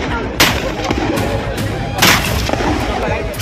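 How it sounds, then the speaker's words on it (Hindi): Repeated sharp gunshots ring out beside a pond, two louder bursts among scattered cracks, their reports echoing and decaying over a noisy background. "गोलियों की गूंज सुनाई दे रही है। ताबड़तोड़ फायरिंग जारी है।"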